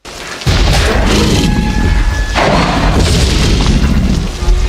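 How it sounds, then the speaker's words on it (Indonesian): The Jurassic Park T-Rex roar, built from layered whale breathing, low crocodile sounds, a lion roar and a baby elephant squeal, erupts as a loud, sustained rumbling bellow with a booming onset and a shifting, roaring body throughout. "suara T-Rex itu merupakan gabungan dari beberapa suara binatang"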